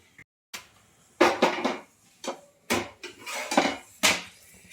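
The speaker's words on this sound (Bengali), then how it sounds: "এবার আমি রুটি বেলছি। রুটিটা আমি গোল গোল করে রুটিটা বেলে নেবো।" Roti being rolled out with a rolling pin in a home kitchen, a series of irregular wooden knocks and clatters, close and distinct, with short pauses between strokes and no talk.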